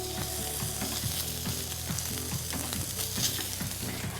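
A pork loin steak sizzles loudly in a hot pan, a dense, continuous crackle and hiss with scattered pops, close up and with no talking.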